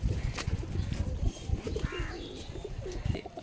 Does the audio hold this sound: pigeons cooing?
yes